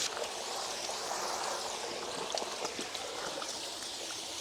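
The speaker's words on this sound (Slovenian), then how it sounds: "Tukaj pri tem Studencu ga pa še lepo na hitro splaknem, prej ko grem domov." Spring water splashing and streaming steadily as something is quickly rinsed under a roadside spring, a continuous close bright rush with small irregular splashes and no talk.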